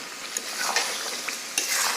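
Potatoes stirred into broiler chicken wings cooking in a pan, a close, steady sizzle with a few scraping strokes of a spoon against the pan, no voices.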